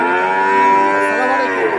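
A Friesian heifer at a rain-soaked cattle market gives one long, loud, close moo that stays level before fading at the end.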